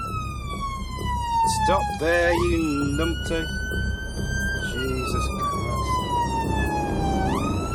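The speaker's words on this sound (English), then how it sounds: "it's blues and twos, lights and the siren." Ambulance on an emergency run through traffic with blues and twos, its siren wailing loud and continuous, sweeping up and down in long rising and falling tones, while the crew talk over it inside the cab.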